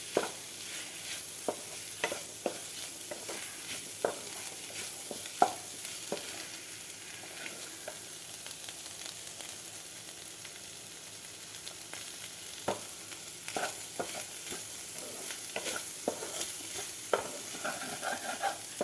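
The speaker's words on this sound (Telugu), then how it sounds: "బాగా ఫ్రై చేయాలి లేకపోతే నీసు వాసన వస్తుంది పొడి పొడి ఆడుతూ ఉండాలి" Rice and seasonings fry in a pan for Telugu-style fried rice made from leftover rice, with a spatula scraping and tapping against the pan in irregular strokes over a soft, continuous sizzle, close up, no talking.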